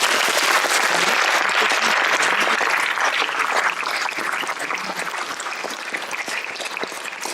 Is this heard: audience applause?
yes